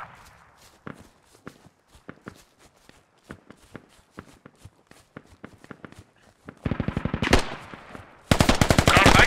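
Rapid bursts of machine-gun fire in a squad-based shooter video game, sparse sharp shots and footstep-like taps at first, then two loud, dense sustained bursts near the end.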